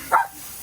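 A single short dog bark rings out close by during an outdoor burger grilling session, then quickly gives way to quiet background noise.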